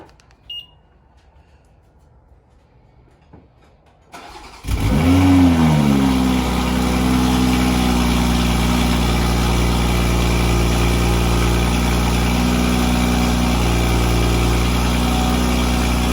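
Quiet background, then a BMW M340i engine with a catless downpipe and stock exhaust cranks and catches with a brief rev before settling into a loud, steady idle that drones on.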